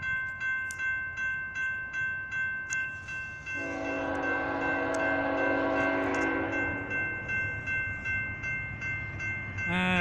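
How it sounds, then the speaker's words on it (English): A northbound BNSF coal freight train rumbles past on the main track with a rhythmic clatter of wheels, while a loud, sustained horn blast sounds partway through. "It's a northbound freight train."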